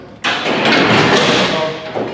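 A historic jail's lever-operated door mechanism that opens and shuts all the cell doors is worked, making a loud, sustained grinding metallic rumble for about two seconds, close by, with no talking.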